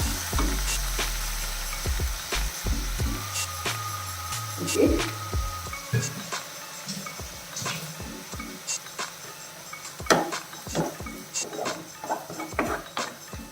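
Onion and ground tomato paste sautéing in a pan over medium flame, a loud frying sizzle broken by repeated spoon scrapes and clinks against the pan, with faint background sounds.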